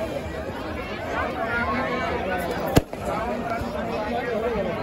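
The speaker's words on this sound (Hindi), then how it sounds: "घमासान आतिशबाजी हो रहा है" A single sharp firework bang cuts through the steady chatter and hubbub of a large outdoor crowd at a Dussehra Ravan effigy burning.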